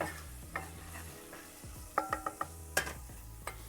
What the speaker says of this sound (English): Saute those sage leaves. Saute the black pepper.